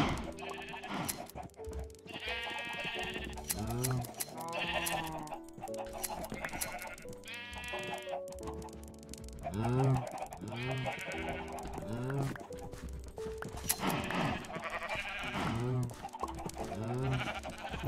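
Sheep bleating in Minecraft on a farm, many repeated wavering bleats close and loud, overlapping in quick succession, mixed with chicken clucks and other farm-animal calls throughout.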